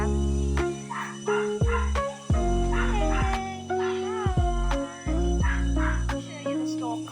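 Dogs at a village animal shelter bark and whimper in repeated short yips and whines, fairly close, with brief pauses between bursts.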